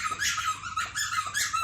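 An avocado-shaped squeaky dog toy is squeezed by a dog, giving three loud, shrill squeaks at a steady rhythm, close by and with no talking.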